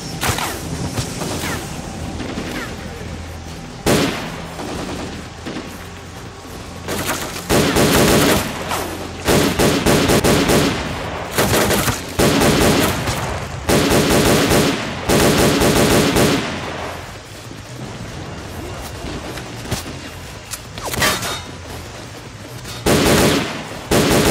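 Gauss rifle and other gunfire in the S.T.A.L.K.E.R.: Clear Sky final battle against Strelok's shield, heavy repeated bursts and sharp shots in loud dense clusters, with whooshing effects between volleys.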